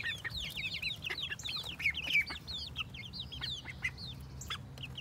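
Tiny baby ducklings on a homestead make rapid, high, peeping little quacks in a busy overlapping stream, fairly faint over a low background hum.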